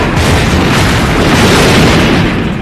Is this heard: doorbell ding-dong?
no